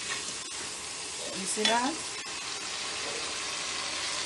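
Liver frying in a pan at breakfast gives a steady, fairly quiet sizzle that runs throughout, with one brief voice speaking over it partway through.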